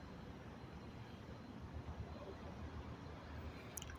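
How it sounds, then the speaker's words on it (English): Police drone flying overhead at a multi-agency attempted arrest scene, a steady broadband motor drone with no breaks, heard alone with no talk. "Some fancy machinery in that drone."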